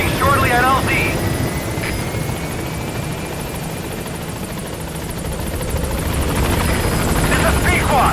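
In a Metal Gear Solid V game scene, the Pequod support helicopter arrives at a landing zone with a loud, steady rotor and engine roar throughout, while radio voices talk over it.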